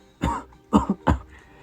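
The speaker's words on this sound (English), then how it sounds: "As Deku coughs up a tiny bit of blood due to his new injuries" Three short, harsh coughs in quick succession, close and fairly loud, with brief pauses between them and no talking.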